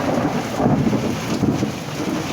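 Steady rain falls outdoors over a garden with rose bushes, a dense continuous patter with some wind rumble, moderately loud and without voices.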